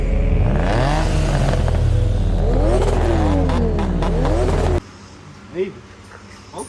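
A Nissan 350Z fitted with a new HKS and Megan Racing exhaust revs hard and loud with rising and falling sweeps, then cuts off to quieter idle with a brief blip, under some talk.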